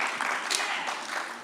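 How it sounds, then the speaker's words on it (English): Brief audience applause for a panel at a Las Vegas event, a steady wash of clapping of moderate level. "give our panel one more wonderful round of applause"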